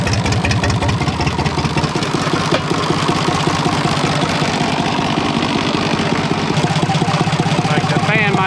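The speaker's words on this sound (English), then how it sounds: "It's so loud, straight pipe, it's hard to hear the engine." A loud, raw International Harvester 484 tractor engine with a straight-pipe exhaust, running steadily with a harsh, rattling exhaust bark that fills the whole stretch without letting up.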